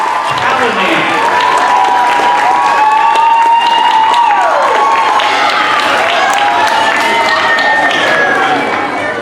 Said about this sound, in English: how about a big round of applause for our fourth grade teachers, Mrs. O'Neill and Mrs. Callahan.